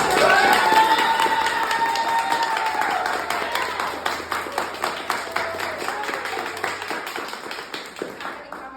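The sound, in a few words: audience applause and cheering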